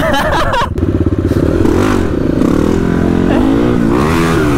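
A motorcycle engine roars close by, revving and rising in pitch as it passes, loud and continuous with some rattling clatter.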